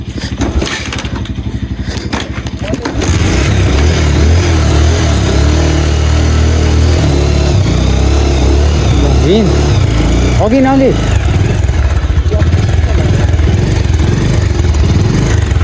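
A motorcycle rides along a rough, dusty rural road in Nepal, its engine a loud, close, continuous drone that holds steady throughout, with a voice faintly present beneath it.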